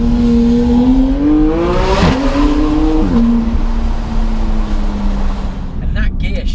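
A McLaren 675LT fitted with a Sharkworks exhaust holds a loud, continuous engine drone with rising and falling pitch, a sharp rev swell near the middle, then a steady cruise note, heard up close throughout.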